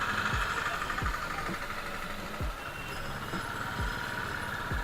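Royal Enfield Bullet motorcycle engine thumps steadily during a road test ride, a continuous low rumble with regular rhythmic pulses and wind noise, fairly close.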